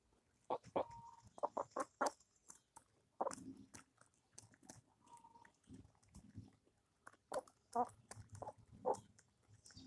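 Chickens cluck in short, uneven bursts, with a rooster's louder calls rising now and then, close by against a quiet yard.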